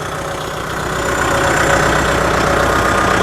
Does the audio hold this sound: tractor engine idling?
yes